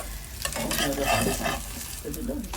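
Egg paratha made from leftover flatbread sizzles steadily in a hot pan over raised heat, a continuous close frying hiss with scraping stir noises and no voices.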